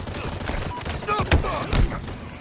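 Halo Infinite gameplay gunfire, a few punchy shots and thuds amid busy game noise over roughly two seconds, with a voice talking over it.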